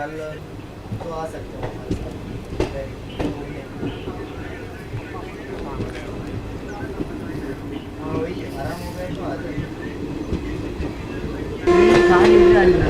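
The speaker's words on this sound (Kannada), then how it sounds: "ಈಗ ನಾವು ಹೊರಟ್ಬಿಟ್ಟಿದ್ದೀವಿ ಮಾವ್ಲಿ ಜಂಕ್ಷನಿಂದ" Chetak Express train pulling out of Mavli Junction, heard from on board: continuous rolling rumble with rhythmic wheel clatter and a horn sounding near the end, while a person talks over it.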